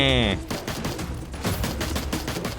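After a short tonal beep, a volley of Free Fire gunfire in FPS mode crackles in quick, uneven bursts, moderately loud and sustained to the end.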